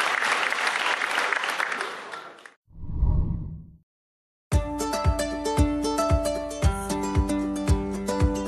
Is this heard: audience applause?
yes